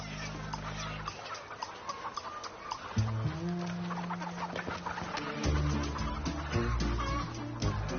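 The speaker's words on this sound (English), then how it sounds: "The morning is when chickens experience the greatest hunger." Chickens clucking and squawking in a busy group at morning feeding time as the feed cart arrives, with dense overlapping calls throughout and a steady background hum.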